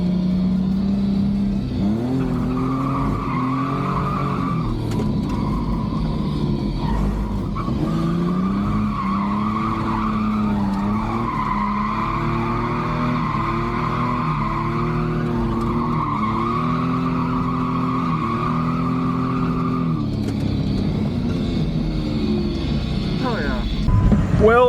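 A V6 Ford Mustang drifts at a drift event, its engine revving up and down in repeated surges while the tires squeal and skid steadily. The sound is loud and close and runs throughout.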